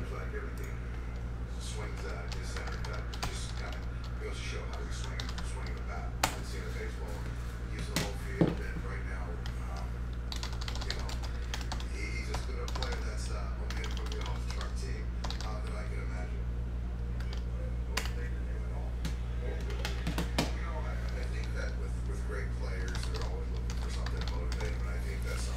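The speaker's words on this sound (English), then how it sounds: "let's type in these hits and we'll see who gets what" Continuous light typing on a computer keyboard, steady soft clicking under a constant low hum, running the whole time with a couple of slightly louder key taps.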